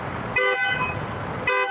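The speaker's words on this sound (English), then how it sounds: "Waymo vehicles started driving in circles and randomly honking at each other" Waymo self-driving cars in a parking lot honk at each other, two short, loud horn toots about a second apart over a faint engine and traffic rumble.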